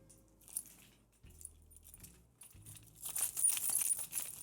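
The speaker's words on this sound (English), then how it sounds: "So I grabbed my keys. Let's try it." A bunch of employee keys being shaken, starting with scattered light metallic clinks and building into a dense, bright jangling rattle toward the end, close and alone.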